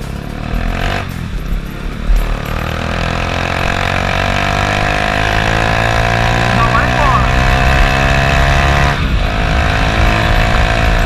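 Honda Titan 150 motorcycle fitted with a GP Competition exhaust, idling loudly and steadily with a deep throbbing rumble throughout, close by, with someone talking over it at times.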